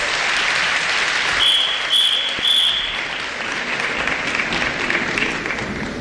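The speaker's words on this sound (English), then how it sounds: "Please give our panelists a round of applause." Sustained audience applause for the panelists at a national dialogue convention in South Africa, a broad steady roar of clapping hands, with a high electronic whine sounding briefly in the middle.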